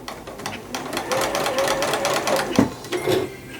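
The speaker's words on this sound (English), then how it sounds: "Remember, when you're sewing, always a couple stitches forward and then a couple stitches back." A sewing machine runs steadily, stitching fabric for a Christmas stocking, its rapid mechanical whir close and continuous with a brief knock partway through.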